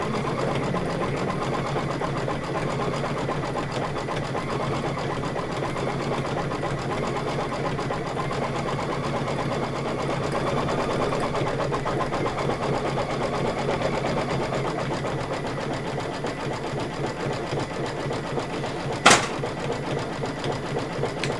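A sewing machine running a satin stitch on a Sweet Land of Liberty pillow, a continuous close mechanical hum with rapid needle rhythm that holds steady throughout, with one sharp click near the end.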